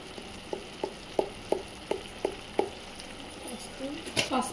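Mutton kima with chilli powder, turmeric and salt is stirred in a sizzling pan, with about seven evenly spaced scraping strokes over a continuous close frying hiss, then a busier clatter at the end.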